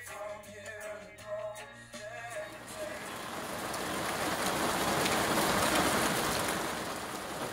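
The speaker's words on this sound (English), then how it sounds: "The following day I woke up to a rainy morning" Steady rain falls on a rainy morning, a dense hiss of drops on surfaces swelling louder after a brief stretch of music-like tones and faint background voices at the start.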